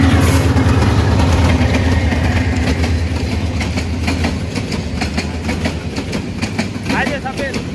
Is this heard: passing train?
yes